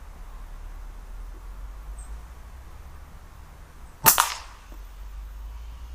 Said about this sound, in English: the sound of these slugs hitting them